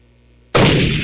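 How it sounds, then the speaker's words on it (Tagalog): A single loud gunshot-like blast cracks out of near silence and leaves a dense, sustained roar that fills the rest of the moment. "Bawat babanggitin ko, bibigyan mo ng isang putok"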